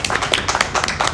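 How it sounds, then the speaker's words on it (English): A small live audience clapping during a Super Metroid speedrun race, a short burst of quick, dense hand claps close by with no talking over it. "This time actual real clapping."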